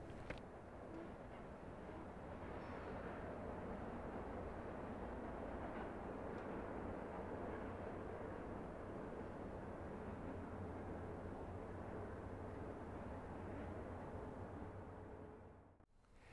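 Four diesel locomotives hauling freight rumbling past, a steady loud roar of engines and rolling wheels that holds for several seconds before cutting off.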